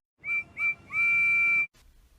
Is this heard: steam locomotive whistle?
yes